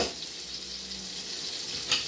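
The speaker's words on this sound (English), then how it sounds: "we're throwing them in there right now. We want to give them a nice sizzle" Steady broadband hiss of chopped scallops frying in melted butter in a hot pan, a continuous close sizzle with no talking.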